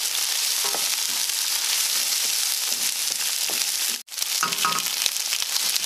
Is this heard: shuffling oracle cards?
no